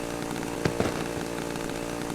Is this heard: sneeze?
no